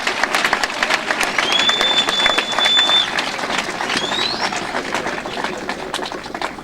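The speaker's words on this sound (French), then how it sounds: "Bobetela bango maboko makasi." An audience at a political gathering claps steadily for the journalists standing before them, a dense, sustained patter of many hands with faint whistling and voices underneath.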